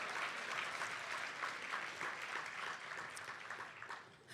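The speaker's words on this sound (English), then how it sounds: "how about a round of applause?" Audience applause at a Boys and Girls Club Youth of the Year award ceremony, steady clapping throughout, moderately distant and even.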